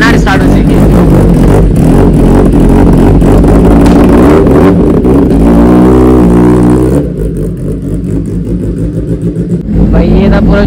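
A superbike engine starts and revs loudly and close up inside a motorcycle showroom in Nepal, with a sustained throaty roar that rises and falls before easing off into a rougher idle near the end.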